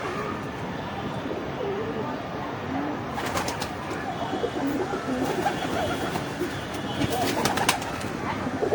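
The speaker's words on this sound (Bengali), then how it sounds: "দেখতে পাচ্ছেন পায়রাগুলা খাওয়ার জন্য উড়ে উড়ে আসছে" Domestic pigeons, including Sirazi crosses and young birds, coo while flying in to feed, with soft, repeated low cooing and fluttering over a busy background and occasional sharp clatters.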